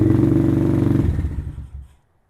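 A Venom Thunder 125 dirt bike idling close by with a loud, fast, throbbing putter that sputters and dies out within about two seconds after the handlebar stop button is pressed, leaving silence.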